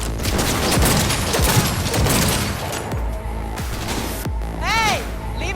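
Gunfire in a Cyberpunk 2077 fight against Alt Cunningham: repeated sharp shots and crashing impacts through the first few seconds, with a voice calling out near the end. The shooting is loud and busy, then thins out.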